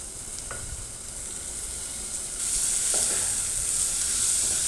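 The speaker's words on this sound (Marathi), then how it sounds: "कांदा असा परतल्यानंतर त्यामध्ये मी टोमॅटो टाकत आहे" Tomatoes hit a hot pan of softened onion and asafoetida, setting off a close, steady sizzle that swells louder partway through, with a few faint stirring clicks and no voices.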